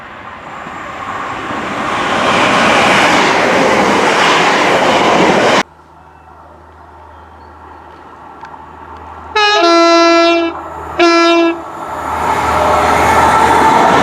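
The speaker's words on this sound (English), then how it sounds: "That's the Trans-Pennine Express service running to Manchester Piccadilly from Cleethorpes." A Trans-Pennine Express passenger train passes through Sheffield station, running from Cleethorpes to Manchester Piccadilly. A loud rumbling pass drops off sharply, then two loud horn blasts follow over a low idling hum before the rumble builds again.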